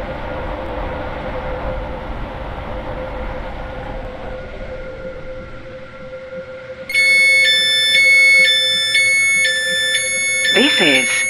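A Roblox Stepford County Railway train departs in the game: a rumbling hum gives way to a loud, steady, tonal warning signal, and a short rising whine sweeps up near the end.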